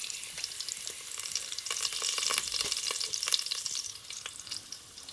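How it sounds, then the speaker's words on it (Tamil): Two cloves sauté in oil while chicken biryani is being cooked, giving a quiet, bright, crackling sizzle with light stirring that rises briefly in the middle and then fades. "2 கிராம்பையில் சேர்த்து நல்லா வதக்குவோம்."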